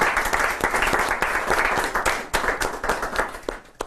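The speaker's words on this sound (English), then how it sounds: "Let's give, please, a round of applause" An audience claps steadily at a day-long event on primitive knifemaking, a dense burst of applause sounding alone and fairly near for a few seconds.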